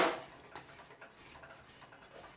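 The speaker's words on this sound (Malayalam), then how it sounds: "ഒഴിച്ചു കൊടുത്താൽ പിന്നെ നമ്മളിങ്ങനെ ഇളക്കിക്കൊണ്ടിരിക്കണം" A spoon stirs a ragi and milk mixture in a pan, giving soft, repeated scraping taps at a steady pace, close and quiet with no talking.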